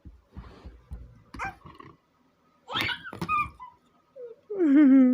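A small toy dog yips and whimpers in scattered bursts, ending in a louder drawn-out whine, with quiet gaps between calls.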